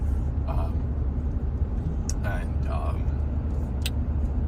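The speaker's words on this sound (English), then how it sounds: "I'll leave the truck running while I back the equipment in" A pickup truck's engine idles with a steady low rumble throughout, sitting near the listener while scattered knocks and clanks from equipment being unloaded off a trailer sound over it.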